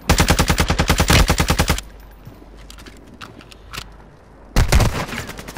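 Video game gunfire: a loud, rapid automatic burst of many evenly spaced shots, a quieter gap with a few faint distant pops, then another loud burst at the end.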